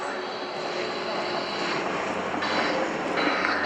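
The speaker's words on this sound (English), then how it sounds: "Thank you to the C-27J Spartan crew. They are performing a slow overfly pass." A C-27J Spartan twin-turboprop makes a slow overfly pass at an airshow, a loud, steady propeller drone and roar filling the air while an announcer talks over it.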